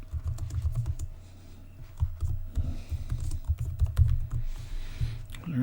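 Rapid clicking keystrokes on a computer keyboard, typed in quick irregular bursts at close range while text is entered into a Google Slides presentation, with no voices.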